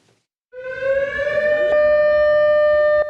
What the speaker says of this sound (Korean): 울릉도 전역에 설치된 14개 사이렌에서 경보가 울려 퍼집니다.